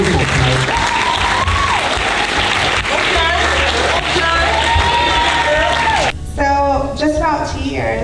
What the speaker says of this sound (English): can everyone just give a round of applause to Tiffany?